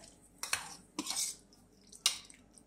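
A spoon knocks and scrapes against a bowl while Rajasthani kanji vada batter is stirred, giving a few short, soft clinks and one brief swishing stir, close by and otherwise quiet.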